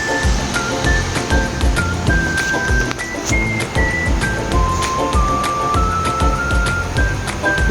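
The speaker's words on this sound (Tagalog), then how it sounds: "Ayan, takpan muna natin at pakuluin." A covered pot of galunggong fish paksiw with water and seasoning at a rolling boil, a loud continuous bubbling and hissing with rapid popping, close and steady throughout.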